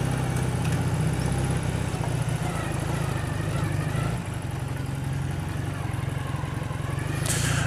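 A 1984 Honda CB400 cafe racer motorcycle's engine rumbles steadily up close for the whole stretch, a deep continuous drone that eases slightly midway before returning to full strength.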